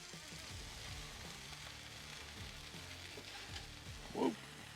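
Birria grilled cheese sandwich with Parmesan toasting in a pan, a steady low sizzle running throughout, with a brief louder burst near the end as the sandwich is flipped.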